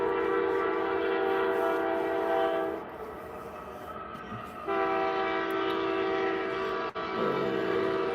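A train passes close by with a sustained, loud horn blast that cuts out and returns, harmonic tones over steady rumbling rail noise, with no talking.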